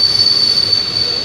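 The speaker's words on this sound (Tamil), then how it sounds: "நம்ம நின்றுருக்கும்போது வேளாங்கண்ணி ட்ரெயின் போச்சு பார்த்தீங்களா" Loud, sustained high-pitched squeal of the wheels on a Velankanni passenger train passing close by, steady metallic screech over a rumbling rail roar, with no voices.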